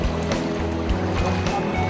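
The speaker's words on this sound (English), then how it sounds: "Just motoring up." A motorboat motors up on the water off Madagascar with a pushing tide, its engine giving a loud, close, droning hum over splashing water and hull slaps, steady across the whole moment.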